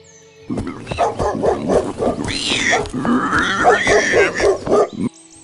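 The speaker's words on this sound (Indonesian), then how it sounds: "Tadi ada gonggongan anjing. Dekat sekali." A dog barks close by in a rapid run of loud, repeated woofs, with a brief whining yelp partway through, then it stops abruptly.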